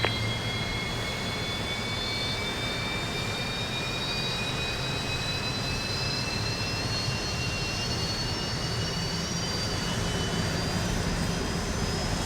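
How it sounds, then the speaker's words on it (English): Engine number 2 of an airliner spooling up in a flight simulator, a steady loud turbine roar with a rising whine running throughout, no voices. "let's go ahead and start engine number 2"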